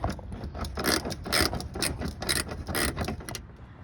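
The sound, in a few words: ratchet removing 10mm fender bolt, Honda Accord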